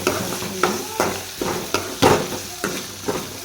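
Dal frying in a pan for an upma dish, stirred in quick regular strokes: each scrape of the spoon rises over a soft, continuous sizzle, close up, with no voices.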